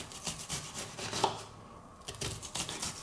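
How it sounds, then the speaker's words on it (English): A knife chops through an onion on a cutting board, dicing it into small pieces for herbed stuffing, with a string of close, uneven cuts and soft scraping. "I just cut down the face, and that'll give us nice little pieces of onion"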